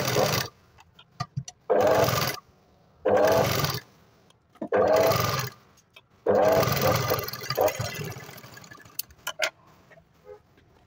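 A sewing machine stitches along the edge of canvas in a katori blouse, running in four or five loud, steady bursts of a second or two each, separated by short pauses and clicks.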